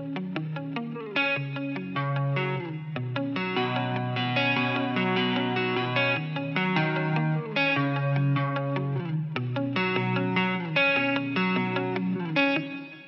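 An electric guitar with chorus and light distortion plays a repeating melodic pattern over several bars, steady and clear, no voices.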